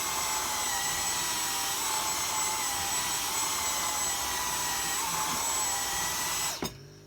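A Dyson V10 cordless vacuum with a fluffy roller head runs on low power with a steady, close whine and faint whirring, then abruptly switches off near the end.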